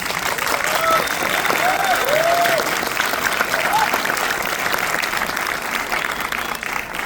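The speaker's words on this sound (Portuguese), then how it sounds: "Pessoal, uma salva de palmas" An audience at a class or talk breaks into loud, sustained applause that carries on for several seconds, with voices rising faintly above the clapping.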